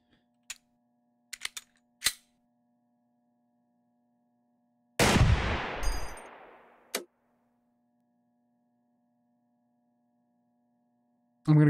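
Pistol fire at a shooting range in the video game Receiver 2: a few sharp, isolated cracks and clicks separated by silence, one louder blast with a ringing tail, and a final shot at the end.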